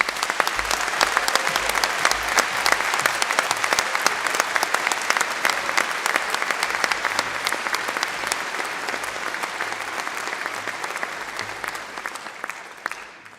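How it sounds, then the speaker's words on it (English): A large audience at a university graduation ceremony applauds warmly and steadily, dense clapping from many hands that holds strong throughout before tapering slightly at the end. "That was a very generous round of applause"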